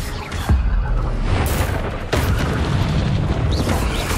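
A spell cast in the Hogwarts Legacy game, heard as several heavy booming magical impacts with sharp onsets over a continuous dense rumble, loud and close with no talking.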